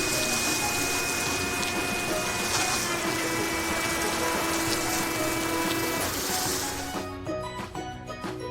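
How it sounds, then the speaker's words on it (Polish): Toy car wash rinse spraying water to wash off soap bubbles, a steady pumping gush with a mechanical whine underneath, continuous and close before tapering off into clicking at the end. "teraz spłuczmy te bąbelki"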